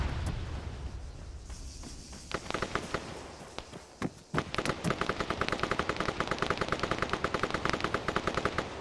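Bursts of gunfire in the Arma 3 military video game: scattered single shots at first, then sustained rapid automatic fire, loud and close, with a sharp blast around the middle.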